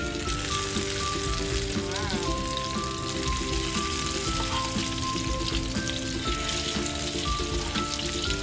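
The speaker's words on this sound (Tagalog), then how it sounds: "Nagpiprito na ako ngayon ng beef balls" Beef balls sizzle and crackle steadily in hot oil, a dense continuous frying noise, heard up close with no talking.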